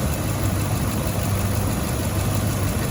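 A 2006 Nissan Titan's 5.6-liter V8 idles smoothly, a steady close-up engine hum with no interruptions and no talking.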